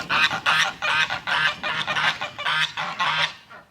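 Geese honk repeatedly in a winter bird yard, a rapid run of loud, close, harsh calls pulsing in quick succession and overlapping, trailing off at the end.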